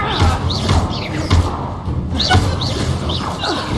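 Incendio fire spell impacts in Hogwarts Legacy, a run of repeated dull thuds and crashing bursts amid combat noise, loud and close, with whooshing spell sounds between hits.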